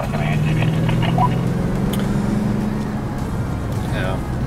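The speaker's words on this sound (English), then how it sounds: "Copy that, oncoming ATV." Inside a vehicle on a fast forest road, a steady engine drone and road rumble carry on while an oncoming ATV passes; people talk over the noise.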